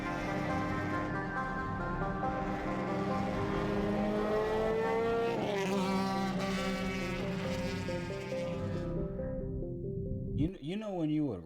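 A car engine, apparently a Honda with VTEC, drones loud and steady with a buzzy, rattling tone like an aluminum can flapping on a bike tire, rising in pitch midway before a voice cuts in at the end.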